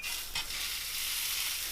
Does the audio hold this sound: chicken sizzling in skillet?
yes